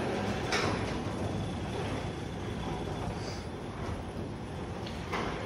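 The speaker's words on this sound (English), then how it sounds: "you'll bring your door down holding the down arrow button to the desired position" A Genie garage door opener lowers the door with a steady, continuous mechanical rumble and hum, close and even in level throughout, with no talking.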